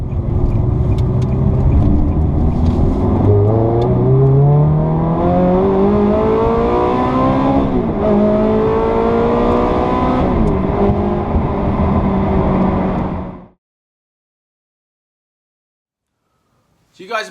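A Ferrari supercar engine revving and accelerating up through the gears, loud and close, with pitch rising and dropping, then cutting off abruptly into silence.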